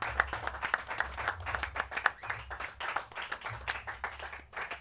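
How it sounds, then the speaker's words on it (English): Audience applause breaking out at the close of a live stage show at Paris Games Week, a steady patter of many hands clapping for several seconds at moderate loudness, with no talk over it. "Round of applause, ladies and gentlemen."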